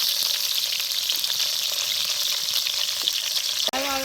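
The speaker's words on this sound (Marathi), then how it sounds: "तेल चांगलं गरम झाले आता हे भरलेलं कारले एक टाकायचे" Stuffed bitter gourd (karela) frying in hot oil in a village kitchen gives a steady, loud, close sizzle throughout, with a brief clatter and a voice faintly starting near the end.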